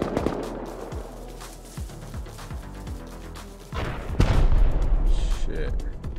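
AK rifle gunfire in the survival video game Rust: rapid, sharp shots in uneven bursts through the first seconds, then a louder, denser barrage of fire toward the end.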